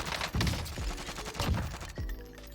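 Rapid volleys of gunshots in Warzone, loud and close with a few heavier booming reports, firing in quick bursts and then tailing off.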